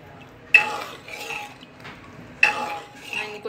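A ladle stirs sambar in a metal pot, giving two sharp clinks against the pot's side followed by softer scraping and swirling of the liquid, close and fairly loud.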